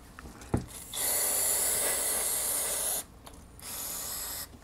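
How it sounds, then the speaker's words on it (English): A carburetor float bowl from a gas 1999 Club Car DS golf cart is rinsed out with spray. There is a small knock, then two long, close, steady hissing bursts separated by a short pause. "Let's rinse the bowl out,"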